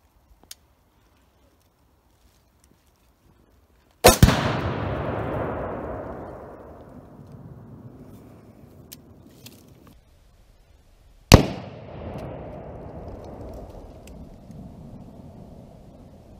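Two sharp, loud blasts about seven seconds apart from rifle-detonated Tannerite packed against a tree outdoors, each followed by a long rolling echo that fades across open ground, with near silence before the first.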